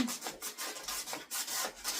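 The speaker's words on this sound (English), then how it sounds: "sanding edges here" Steady back-and-forth rasping of sandpaper against the edge of a bathroom countertop, close and fairly quiet, in rhythmic strokes with no talking.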